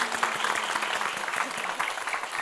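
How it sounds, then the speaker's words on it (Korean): A studio audience claps steadily and fairly loudly for a couple of seconds during a Korean lecture show where a lawyer explains trials and verdicts. "박수 한번 주시죠"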